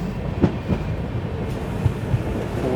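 The diesel-hauled Narkher–Kacheguda Intercity Express rolls into Mudkhed Junction with a steady, close rumble and soft, irregular clickety-clack thumps of the wheels over the rail joints.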